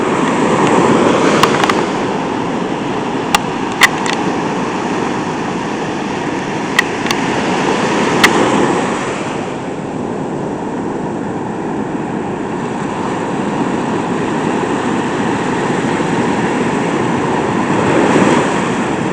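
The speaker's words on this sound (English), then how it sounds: "Some pretty big waves out there." Big ocean waves breaking, a continuous loud roar of surf that swells and eases, with a few faint clicks and no voices.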